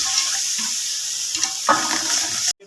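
An onion and garlic masala for kadhi pakora frying in a pan, a soft, steady sizzle with a few faint scraping stirs, close by, ending abruptly.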